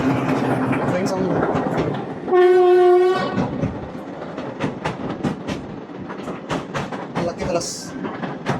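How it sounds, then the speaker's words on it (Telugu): A train passes close by on a railway line during a solo trip from Rameswaram to Kanyakumari, its loud horn blaring for about a second amid rumbling wheels, with voices talking over the clatter. "Train sound."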